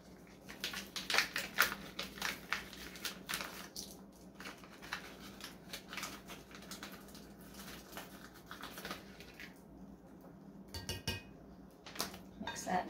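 Applesauce cake batter with cinnamon and ground cloves is mixed in a bowl, a steady run of soft, rapid tapping, scraping and squishing of a utensil against the bowl, close, fairly quiet and continuous.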